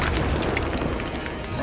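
A burst from the Expulso spell in Hogwarts Legacy, a short dense boom with noisy rumbling that stays loud across the brief moment without any clear separate hits.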